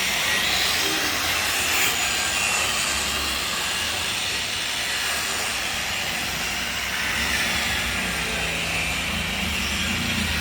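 A machine polishing the body of a car runs steadily close by, giving a continuous loud whirring hiss with no pauses and no voices.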